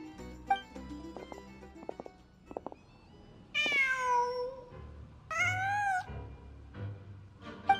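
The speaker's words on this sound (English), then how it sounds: "Just a cat." A cat in Genshin Impact meows twice in long, clear, drawn-out calls, preceded by soft game chimes and plucked music notes.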